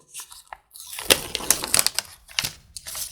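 Paper surprise packet torn open by hand, a burst of crinkling and ripping paper sounds, close and fairly loud, in short bursts.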